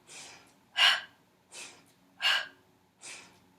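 Sharp, forceful breaths during a double-time Pilates exercise, five quick bursts in a steady rhythm, alternating softer and stronger, close to the microphone with no talking.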